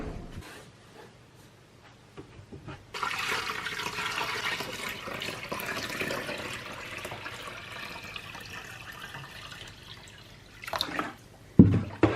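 Collected rainwater is poured into a Berkey gravity water filter, a steady splashing pour lasting several seconds that tapers off, ending with a few louder knocks and clunks. No one speaks.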